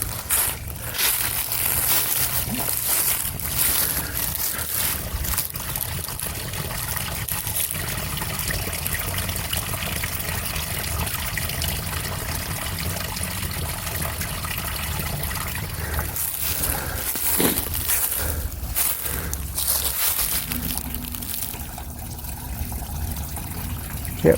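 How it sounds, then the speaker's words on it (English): Continuous rushing and trickling water of a small waterfall in a stream fills the scene, a steady close splash of a small cascade with occasional louder gurgles. "I can hear a little waterfall over here."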